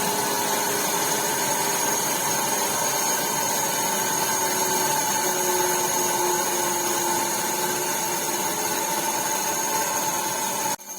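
A DC shunt motor hums and whines steadily with a constant mechanical drone through the whole stretch, then cuts off abruptly at the very end as it is brought to a stop by plugging.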